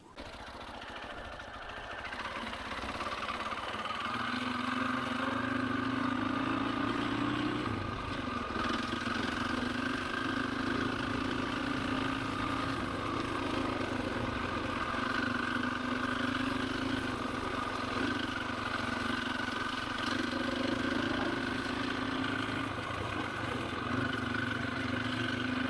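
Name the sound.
KTM 525 EXC motorcycle engine while riding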